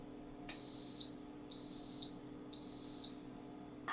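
Three evenly spaced, high-pitched electronic beeps from an Instant Pot pressure cooker, each about half a second long, ring out clearly in a quiet room.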